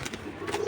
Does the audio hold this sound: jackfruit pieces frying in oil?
no